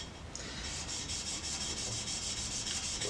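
A chisel is rubbed back and forth on a sharpening stone at a finer grit, a soft continuous gritty scraping with a faint rhythmic pulse, close and steady, with no voices.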